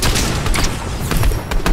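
Video game gunfire crackling in a dense, continuous volley of rapid shots and booms, loud and close, filling the whole moment without speech over it.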